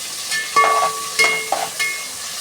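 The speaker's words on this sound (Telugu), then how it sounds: "గోల్డ్ కలర్లో వచ్చే వరకు ఫ్రై చేసుకున్నాము" Onions and other khichdi ingredients frying in a pan and stirred, a steady close sizzle broken by several bursts of scraping and stirring, no talking.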